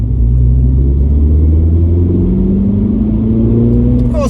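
A 2020 Mini JCW engine revs loudly up close, a deep rumbling note climbing steadily in pitch over a few seconds, with a short crackle at the end.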